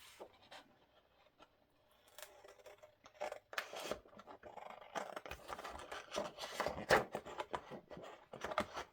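Scissors cutting tea box cardboard for a journal cover, close rasping snips and crunching cuts that begin sparse, then grow denser and louder in irregular strokes.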